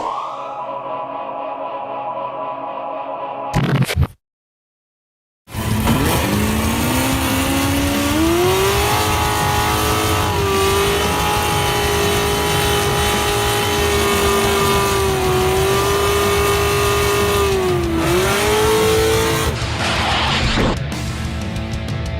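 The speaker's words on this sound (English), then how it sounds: "Now this is a burnout. That's how it's done." A Ford Mustang does a burnout, its engine roaring loud and close in a sustained high rev with a rising, wavering pitch for several seconds before cutting off abruptly.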